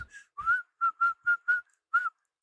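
A whistle sounds inside a video game in a quick run of about seven short, bright, clean toots, close and loud, with a few quick and evenly spaced blasts and a last one after a short pause.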